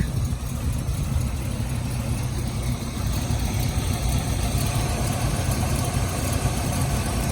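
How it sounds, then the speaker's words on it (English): A 1931 Plymouth P4 street rod idling with a steady, even engine rumble and a low exhaust note, close and continuous, with no talking over it. "Maybe just a subtle amount of exhaust noise."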